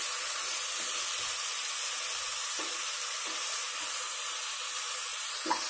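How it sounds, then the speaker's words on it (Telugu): Ginger garlic paste frying in hot oil for prawn biryani, a steady close sizzle with faint stirring touches throughout, no voices. "అల్లం వెల్లుల్లి వేగింది కదా"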